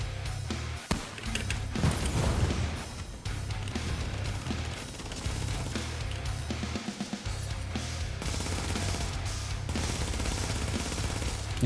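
Rapid bursts of MP7 submachine gun fire in The Division, loud and close, with dense overlapping shots, brief pauses between volleys and crashing impacts mixed in.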